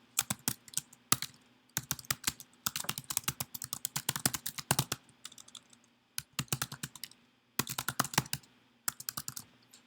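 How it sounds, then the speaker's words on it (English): Rapid typing on a computer keyboard, close and crisp, in bursts of quick keystrokes broken by short pauses, with no voices. "And we're typing in"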